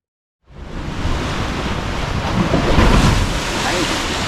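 Ocean waves and surf at Bimini in the Bahamas rush in after a moment of silence, with a loud, continuous wash of water and heavy wind buffeting the microphone.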